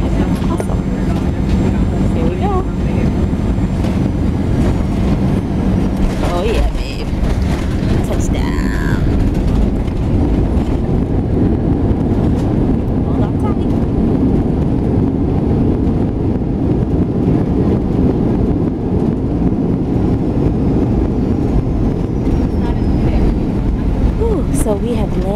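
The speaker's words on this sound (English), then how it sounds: "a little turbulence as we come in for our landing" Airliner cabin during a turbulent landing approach at Grand Cayman, a steady loud roar of engines and airflow throughout, with a voice talking over it now and then.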